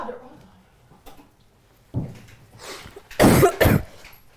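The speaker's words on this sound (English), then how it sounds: "Damn, you just coughed in the mic" A person coughs close into a microphone, a couple of loud, harsh bursts near the end after quieter throat sounds, with brief muffled speech beforehand.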